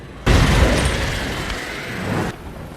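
A sudden loud booming burst, like thunder in a superstorm scene from the film The Day After Tomorrow, cuts in abruptly, rumbles heavily for about two seconds and then stops sharply.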